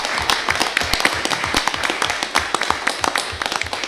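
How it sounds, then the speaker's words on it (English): Applause at a mayor and council meeting: a modest group claps nearby with sharp, uneven claps. It keeps an even pace throughout without dying down. "Let's give both these guys another round of applause."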